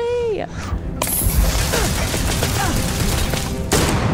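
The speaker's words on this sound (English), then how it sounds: "Stop shooting me!" Enemy gunfire in the video game Starfield: a dense, continuous barrage of sharp shots and mechanical clatter that bursts in loudly after a brief lull and keeps going, with a voice heard briefly at the start.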